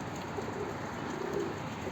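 Soft pigeon cooing drifts over a steady outdoor hum, low and gentle, a short murmuring call or two.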